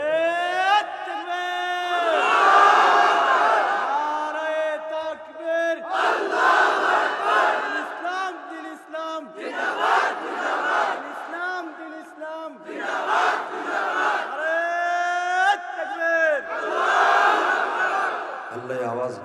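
A large crowd at an outdoor funeral gathering shouts the takbir chant in unison, several loud swelling calls of massed voices separated by short pauses, ringing and echoing across the space.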